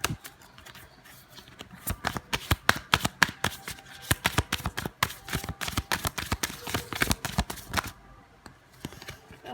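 An oracle card deck is shuffled up close, producing rapid bursts of crisp papery riffles and slaps that come in quick irregular clusters for about eight seconds before trailing off into quieter shuffling.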